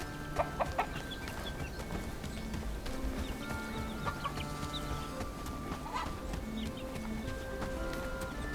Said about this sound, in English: And I suppose we will buy a rooster.